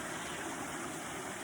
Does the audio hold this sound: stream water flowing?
yes